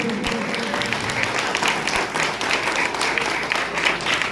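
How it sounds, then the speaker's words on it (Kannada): Loud, sustained applause from a gathered audience at a church community event, a dense, even wash of clapping throughout with no break. "ಮತ್ತೊಮ್ಮೆ ಗಟ್ಟಿಯಾದ ಚಪ್ಪಾಳೆಯೊಂದಿಗೆ"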